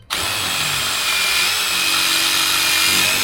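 A power drill bores into wood, starting abruptly and running as a loud, continuous high-pitched whine that holds steady for a few seconds, close and alone.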